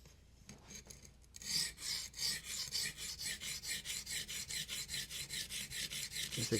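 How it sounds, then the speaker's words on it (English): A knife blade is drawn across a new, not-yet-broken-in sharpening stone at a 19-degree angle, giving rapid, regular rasping strokes in a steady back-and-forth rhythm, close and clear with no talking. "all I'm trying to do with this first stone is get that 19-degree angle good and set"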